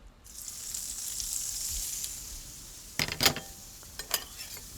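Chorizo sizzling on an oiled grill for a breakfast burrito, a steady close hiss followed by a few sharp scraping and clattering knocks from utensils.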